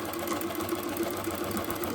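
An Empisal Goldline Deluxe Automatic sewing machine runs steadily at a medium speed with its stitch regulator set halfway, giving a continuous mechanical whirr and hum with no breaks, heard close with no talking.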